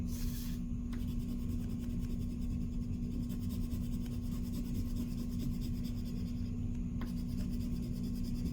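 A colored pencil scribbles steadily across paper, a continuous soft scratchy rasp heard close up over a low steady hum, with no talking.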